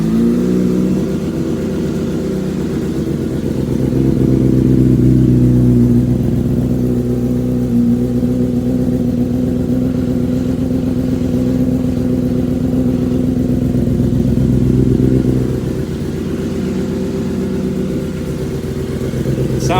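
Used engine transplanted into a Yamaha R6 motorcycle idles steadily and loudly for the whole stretch, a continuous low mechanical drone with a slight swell in revs near the middle and again later, no talking.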